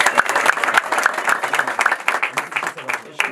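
Applause from a wedding crowd at an Ethiopian celebration: dense, steady clapping from many hands that carries on loudly for a few seconds, with voices mixed in.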